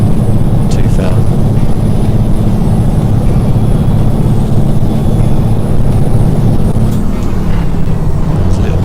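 A Peterbilt 281/351 truck in American Truck Simulator drones loud and close, a continuous low engine rumble with a slight change in pitch late on as it shifts.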